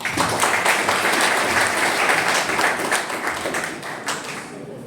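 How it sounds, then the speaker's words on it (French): A crowd applauds steadily, a dense wash of many hands clapping that holds strong for several seconds and then starts to fade. "Et nous vous demandons d'applaudir le thème."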